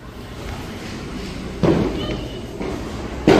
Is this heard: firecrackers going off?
yes